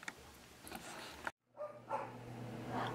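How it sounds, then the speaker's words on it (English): Pet dogs in a home bark a few times, faint and somewhat distant, in short scattered bursts with quiet gaps between, and no talk over them. "periodically you will definitely hear my dogs barking"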